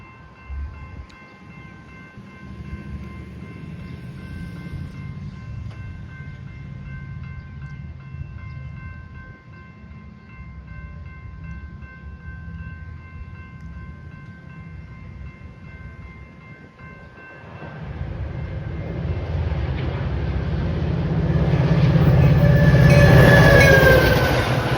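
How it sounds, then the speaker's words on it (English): A train pulls into a station, first as a low rumble with steady tonal hums. The rumble then grows louder and closer, with brighter wheel screeches and clatter as it arrives, and no talking. "Train approaching"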